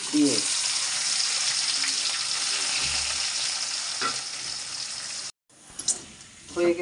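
Garlic and onion fry with white and black cumin and dried red chilies in hot oil for khichuri, a loud, continuous sizzle that cuts out briefly near the end before resuming with faint background voices.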